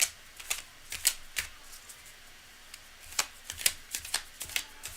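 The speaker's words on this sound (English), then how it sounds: "All right, I think we're really well shuffled now." A deck of tarot cards is shuffled by hand with quick crisp riffles and flicks that come in irregular bursts, close and fairly quiet, with no talking.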